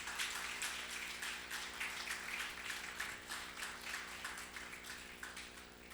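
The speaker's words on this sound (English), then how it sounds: "A louder round of applause for Arunima." Faint, distant applause from an audience for a performer at a HeForShe event, a steady patter of many hands clapping evenly for several seconds without talk.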